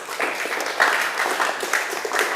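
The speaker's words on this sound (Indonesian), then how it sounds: "beri aplaus lagi kepada kelompok 1" Applause from a class audience for student group 1 during a lesson presentation at a vocational high school, a steady wash of hand claps lasting the whole short stretch at moderate volume.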